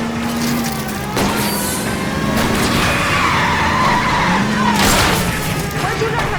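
Tires squeal and skid as a car swerves through a chase in L.A. Noire, long screeching sweeps rising and falling over a roaring engine, with brief bursts of noise and some talk mixed in.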